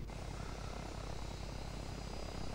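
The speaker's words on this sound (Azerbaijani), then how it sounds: "NATO-nun təyyarəsidir." A NATO airplane flies overhead in the video game Arma 3, a steady, faint broadband engine drone that holds constant without a break and with no voices.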